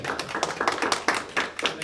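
A debate audience applauds the sound man: a steady patter of hand claps from a crowd, fairly close and even, lasting the whole moment with no talk over it.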